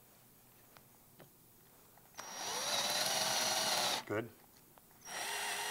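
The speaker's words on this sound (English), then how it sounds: "So just drill 4 holes, one kind of by each corner." A power drill with a 1/4-inch bit bores drainage holes through birdhouse wood into a wasteboard, a loud sustained whine lasting about two seconds, a brief pause, then a second burst starting; a short spoken word comes before the drilling.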